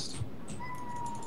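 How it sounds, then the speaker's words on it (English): Cat meowing in a drawn-out tone during an online game session, faint and partly mixed with game sounds and talk. "April, stop starving your cat."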